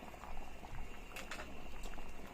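A pot of ginisang monggo, mung bean stew with sweet potato leaves, bubbles on the stove, a soft steady simmering patter with small pops, faint and close, no voices.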